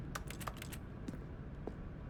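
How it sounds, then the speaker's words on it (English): Several quick, light keyboard clicks in a short cluster in The Stanley Parable, then a few scattered taps, over a steady low background hum. "Everything's making a keyboard sound."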